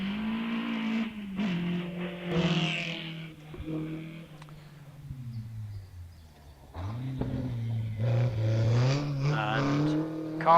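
Morgan car at the Wiscombe Park hillclimb accelerating away from the start line: engine revs climb through several gear changes, the note rising and dropping in steps, loud and close before fading, then a second surge of revving.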